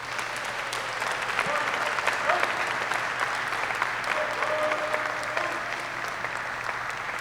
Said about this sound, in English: with another round of applause